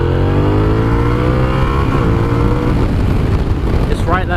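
Suzuki SV650S motorcycle, restricted to 47 bhp, its engine revving up in a loud, close, rising whine that climbs steadily in pitch for a few seconds before easing.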